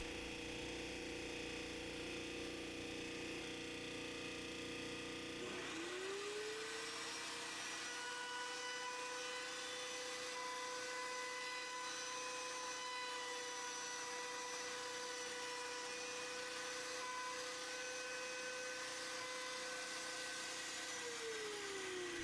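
A milling cutter on a guitar bridge saddle slot mill whirs steadily, first as a dense broadband hum, then spinning up into a sustained high whine with a steady tonal drone, close and continuous with no talk.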